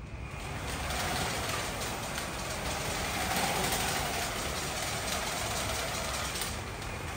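A Wall-E style robot drives on brushless motors, producing a steady, fairly loud whir with a constant high whine running throughout and no pauses.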